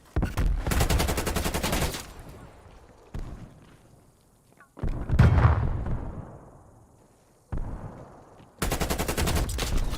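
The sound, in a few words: gunfire in a video game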